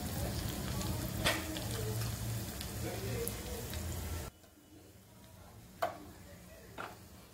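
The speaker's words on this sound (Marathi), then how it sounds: "आता हा तडका आपण त्या दाल खिचडीवर घालायचा" A hot tempering with a dried red chilli sizzles loudly over Punjabi dal khichdi, then the sound drops sharply to a quieter hiss with a few sharp clinks of a spoon against the pot.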